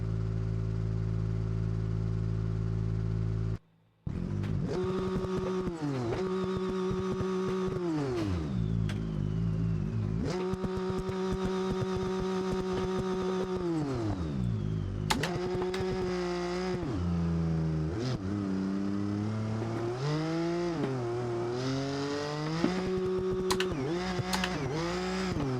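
A flathead straight-six car engine in a racing simulation revs hard repeatedly, climbing and falling in long sweeping pulls near the rev limit, loud and close with a short cut-out near the start.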